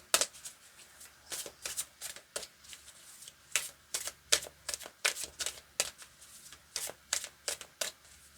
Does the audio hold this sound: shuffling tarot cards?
yes